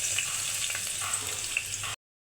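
Chopped onion, garlic, green chili and turmeric sautéing in hot oil for a prawn and spinach dish, a steady close sizzle that cuts off abruptly.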